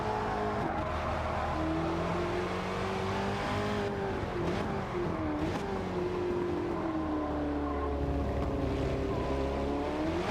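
Porsche 917 Living Legend race car engine in Gran Turismo at the Lago Maggiore circuit, a loud continuous howl rising and falling through gear changes and revs, steady and close with no talking.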